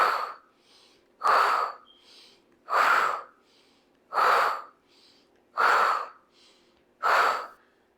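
Heavy, rhythmic breathing during a yoga core power flow: six strong, evenly spaced breaths, each a loud, forceful gasp-like exhale, close to the microphone with short quiet gaps between them.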